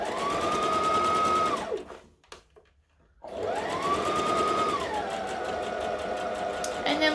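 A sewing machine stitches fabric in two steady motor runs split by a short pause, loud and close, while someone talks over it.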